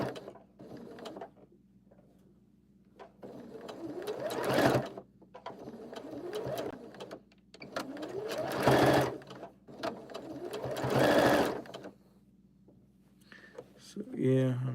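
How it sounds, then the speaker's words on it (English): A sewing machine stitches fabric onto a creepy scarecrow-style puppet. Several bursts of rapid mechanical chattering are separated by quieter pauses, close up, with a voice talking at times. "I'm just stitching this on here now."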